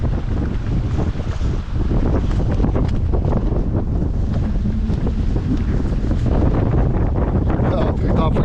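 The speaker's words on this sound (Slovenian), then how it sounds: "zdaj tako piha." Strong wind buffets a sailing boat at sea, a loud, gusty roar pressing on the microphone, with water sloshing beneath and voices faintly mixed in.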